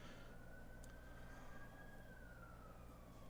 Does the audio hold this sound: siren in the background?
yes